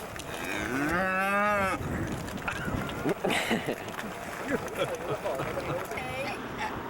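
Cows in a field in Ireland give a loud, drawn-out moo close by, followed by scuffling movement while people talk over the herd.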